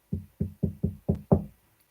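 Six gentle knocks on a door in a steady, evenly spaced rhythm, each a soft thud, the last one slightly louder, heard alone and close with silence after.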